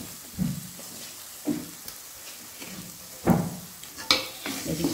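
Roasted mawa with sugar and ground dry fruits being stirred in a pan, with a few scraping strokes spaced a second or so apart over a faint sizzle, near and moderately loud, with no talking.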